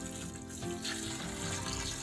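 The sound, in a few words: pouring hot water around the outside of a container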